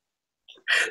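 A single sneeze bursts out close by, preceded by a short sharp intake of breath, then a loud, breathy expulsion lasting about a quarter second.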